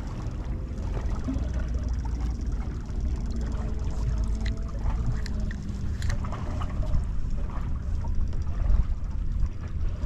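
Boat trolling motor running while inshore fishing on Tampa Bay, a steady low hum and water wash filling the background continuously with faint splashes and creaks, no talk.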